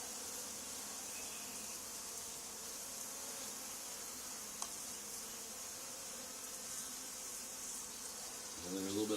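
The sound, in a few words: honey bee swarm buzzing in a hive box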